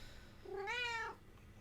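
A pet cat lets out a single drawn-out meow, rising then falling, more a crying wail than a plain mew, close and clear against a quiet room.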